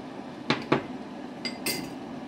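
Arrowroot slurry is stirred into Manchurian gravy in a pan: a handful of sharp metallic clinks and scrapes of a spoon against the pan over a soft, steady background, with no voices.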